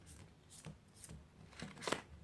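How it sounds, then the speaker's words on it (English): A tarot deck being shuffled by hand, giving a few quick papery riffles and card slaps spaced across a short, quiet stretch with no talking. "so I'm going to go ahead and start by shuffling the deck."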